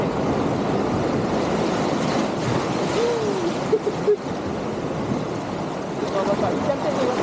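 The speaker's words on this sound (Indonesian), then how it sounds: "Ombak datang." Sea waves breaking on the shore at Tanjung Balau, a steady broad surf roar that fills the whole clip at close range, with a couple of brief louder bumps near the middle and faint voices in the background.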